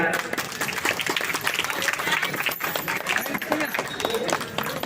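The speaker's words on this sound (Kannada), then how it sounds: "ಎಲ್ಲರೂ ನಮಸ್ಕರಿಸುತ್ತಾ ಚಪ್ಪಾಳೆಯನ್ನ" A crowd at a spiritual discourse inauguration applauds, dense and continuous clapping from many hands, steady in loudness for the whole stretch.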